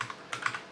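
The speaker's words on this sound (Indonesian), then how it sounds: "Kita tinggal ketikkan aja" Brief burst of keystrokes on a computer keyboard as an IP address is entered, a handful of quick light taps, close and fairly quiet.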